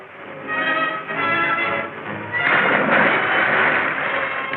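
A horse whinnies loudly and at length, a shrill, quavering neigh with a second strong burst partway through, close by and with no talk.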